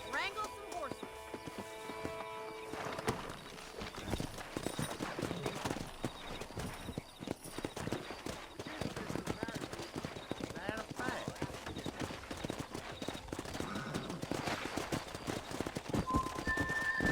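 Horses gallop and whinny in the Western video game Red Dead Redemption, with steady clip-clop hoofbeats, repeated neighs and characters talking over the action.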